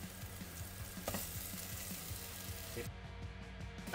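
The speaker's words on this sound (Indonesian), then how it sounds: "Kita tumis sampai harum itu benar-benar keluar dan bumbunya matang" Blended spice paste with bay leaves, lime leaves and lemongrass sautéing in oil for nasi kebuli, a quiet, even sizzle with faint stirring scrapes, close up and without talk.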